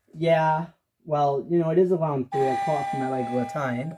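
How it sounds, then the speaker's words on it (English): A person talks while an electronic doorbell chime sounds partway through, a steady tone lingering beneath the voices. "That was the doorbell."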